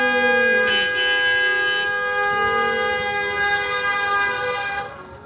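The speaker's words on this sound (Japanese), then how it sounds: "なんか救急車みたいなの来た。" Loud, sustained horn-like siren tone from an arriving vehicle on a freezing morning at minus 11 degrees, holding steady for several seconds before cutting off.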